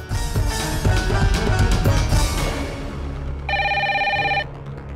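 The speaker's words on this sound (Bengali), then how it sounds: "ফোন তোলো" A telephone bell rings in a single steady burst of bright, electronic-sounding trills, coming in over a loud music bed that fades as the ringing starts.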